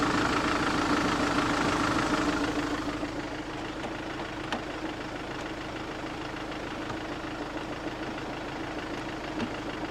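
A heavy machinery engine idles steadily on a winter smallholding, its revs audibly dropping after the first few seconds to a lower, even drone with faint clicks on top, no voices.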